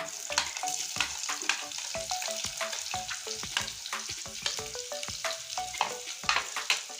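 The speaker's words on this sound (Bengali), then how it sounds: "পেঁয়াজটা লাল লাল করে ভেজে নেব রসুন আর পেঁয়াজ একসঙ্গে" Chopped onion and garlic fry in a pan with a continuous close sizzle, broken by frequent sharp clicks and scrapes of stirring throughout; no voices.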